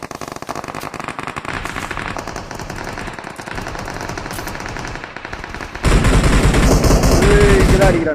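A video game gun with an extended quickdraw magazine fires rapid, sustained automatic bursts, loud and close, growing denser and heavier toward the end with overlapping shots.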